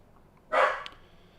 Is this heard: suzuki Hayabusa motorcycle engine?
no